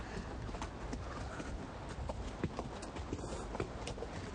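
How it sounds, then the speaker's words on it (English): Mules and a horse walk down steps on a trail, their hooves clip-clopping in a steady, uneven patter of soft knocks over a constant outdoor rumble. "Now watch these mules go down these steps"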